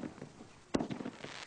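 New Year fireworks crackling at a distance, a string of small pops and bangs with one sharper report in the middle, fairly faint.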